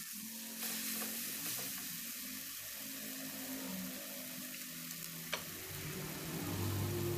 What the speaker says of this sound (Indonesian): Kemudian masukkan pete yang sudah kita kupas. Ditumis sampai menyatu.